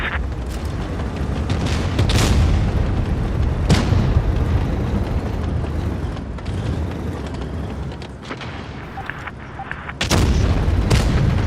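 Tank cannon shots and shell hits in the World of Tanks game from a Foch 155 tank destroyer, heavy booms over continuous engine rumble, with one large blast near the end.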